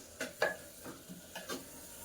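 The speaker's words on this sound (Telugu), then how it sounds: "బాగా కలుపుకోవాలి." Seelavathi fish curry stirred in a clay pot: a few soft scraping strokes at uneven intervals, close and quiet, with no talking.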